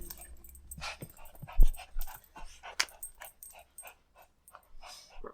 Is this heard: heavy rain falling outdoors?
no